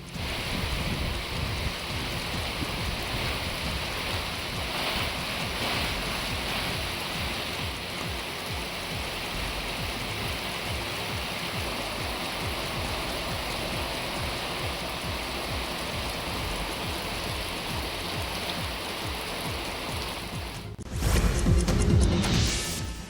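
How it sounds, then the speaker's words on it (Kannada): Heavy rain falls steadily in Hassan district, a dense, continuous broadband roar with no talk, ending in a brief louder burst. "ಭಾರೀ ಮಳೆಯಿಂದ ಜನಜೀವನ ಅಸ್ತವ್ಯಸ್ತವಾಗಿತ್ತು."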